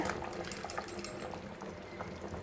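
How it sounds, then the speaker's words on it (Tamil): Water pours steadily into a pot of country chicken curry with ground coconut paste, a continuous splashing gurgle that lasts the whole moment, close and moderately loud. "கொஞ்சமாக அலசிட்டு தண்ணி சேர்த்துக்கலாம்"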